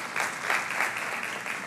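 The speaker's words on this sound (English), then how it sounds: "Give another round of applause to Nadia." Applause from an audience at a leadership induction ceremony in Memphis, a steady wash of clapping hands lasting under two seconds, fairly dense and even with no voices over it.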